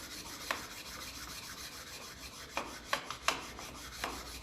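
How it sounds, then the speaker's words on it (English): A metal file works over a part of a 1957 Ferguson 35 TVO tractor, with quiet, soft rasping strokes broken by several sharper scraping clicks toward the end, close up and without talk. "maybe the file is quicker than the whetstone for that, and then I can get a wider sweep then with this"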